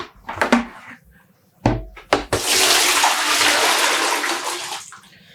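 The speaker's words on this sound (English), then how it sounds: "You can also keep rinsing," Running water rinses freshly dyed yarn, a steady loud gush flowing for about three seconds after a few brief splashes and knocks.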